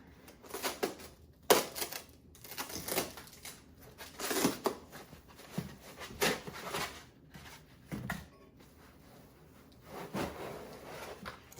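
Cutting open the tape on the packaging of a 3D printer build plate: faint, irregular scraping, crinkling and slicing sounds in short bursts, close by, with no talking.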